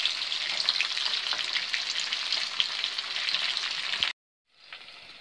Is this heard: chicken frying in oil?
yes